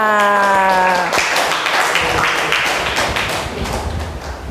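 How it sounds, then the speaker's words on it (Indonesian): Classroom applause for a student named Natasha during a teaching practice lesson, a burst of many hands clapping close by that swells after a brief tone and carries on steadily before tapering slightly. "Tepuk tangan untuk Natasha."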